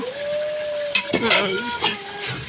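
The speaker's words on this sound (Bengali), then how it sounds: "এই যে গরুর মাংসটা একটু নাড়াচাড়া দেওয়া নিব, কষানো ভালো করে কষাইতে হইব।" Beef frying in a pan is stirred and scraped with a utensil, giving a sizzle with a few metallic clinks and scraping sweeps that come in bursts over a steady background hiss.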